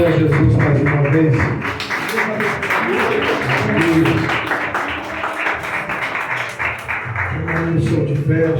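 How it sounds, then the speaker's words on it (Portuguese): A church congregation claps for Jesus during a deliverance service, dense sustained applause and tapping mixed with voices and some background music throughout. "Isso, aplaude a Jesus mais uma vez."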